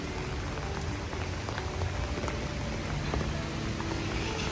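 Rain falls steadily in a Shanghai street the day after Typhoon In-Fa, a dense, even patter with scattered drops close by and faint traffic in the background.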